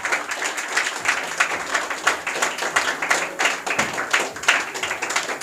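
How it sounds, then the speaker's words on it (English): An audience at an English academy's tenth-anniversary prize ceremony claps for a fourth-prize winner, a steady patter of many hands over several seconds, fairly close and unbroken by talk. "Clap."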